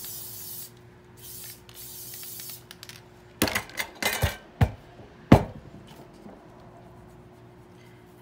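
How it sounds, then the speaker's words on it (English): Glitter spray hisses onto a jar tumbler in several short aerosol bursts close by, mixed with sharp clinks and knocks as the can or jar is handled. "I'm going to give it a second coat of this spray"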